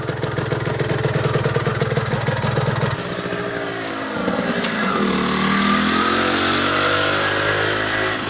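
A 1973 Penton 175 Jackpiner motorcycle with a rebuilt Bing carburetor runs loud and steady, its engine note shifting midway as the bike pulls away and rides off, with no talking.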